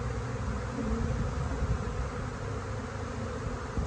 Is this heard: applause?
no